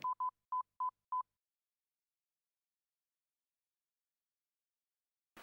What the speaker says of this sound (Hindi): अभी सिमी को फोन करती हूँ।